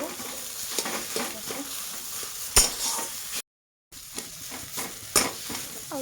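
Potatoes salted and stirred in a frying pan sizzle softly while a utensil scrapes and clinks against the pan in irregular strokes, with one brief pause and no talk.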